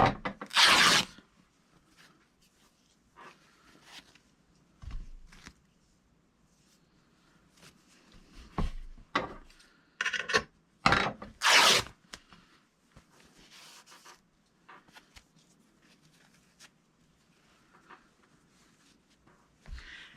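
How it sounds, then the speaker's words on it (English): Strips of material being cut for a tag book, scattered crisp snips and tearing rasps, close and intermittent, with soft handling rustles and quiet gaps between bursts. "So I'm going to cut myself a few strips here and deal with all the stringies."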